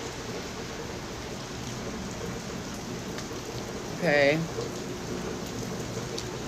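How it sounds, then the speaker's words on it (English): Warm rain falls steadily outdoors in downtown Los Angeles, a soft constant patter, and a person briefly says a word partway through. "So it's raining."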